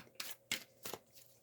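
Large tarot cards being shuffled by hand, three or four soft papery riffles in quick succession, close and quiet.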